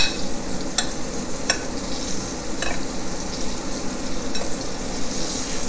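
Venison sizzles steadily in a hot pan, a dense frying hiss with occasional sharp stirring clicks of a utensil against the pan, close and continuous.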